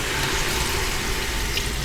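Swanson chicken broth pours into a pressure cooker for soup, a steady, full liquid splashing and gurgling with no voices.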